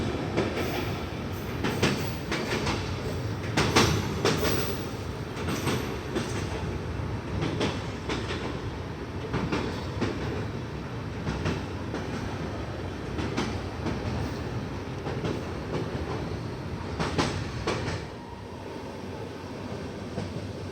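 Kashi Vishwanath Express rolling toward Ghaziabad Junction near the Yamuna river, a steady loud rumble of wheels on rail with repeated clickety-clack joint beats and occasional brief squeals, continuous throughout with no talking.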